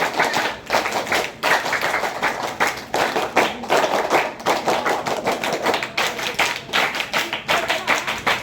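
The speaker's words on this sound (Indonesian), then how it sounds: "Tepuk pramuka." Scout group clapping (tepuk pramuka) at a scout camp, many hands striking together in a steady rhythmic pattern with short pauses between bursts, close and fairly loud, no talking.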